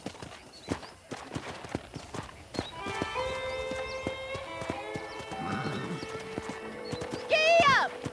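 Horse hooves clip-clopping in Red Dead Redemption, a steady close trot of sharp hoof strikes on a ranch, with a voice speaking over part of it and a high whinny near the end.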